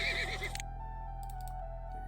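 A horse in Zoo Tycoon gives a brief, warbling whinny that cuts off sharply, followed by a low steady hum and a few soft clicks.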